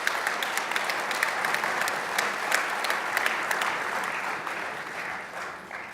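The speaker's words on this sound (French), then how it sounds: "Merci de vos applaudissements" Sustained audience applause fills a hall at a New Year wishes ceremony in Le Perreux-sur-Marne, steady dense clapping throughout that eases slightly toward the end.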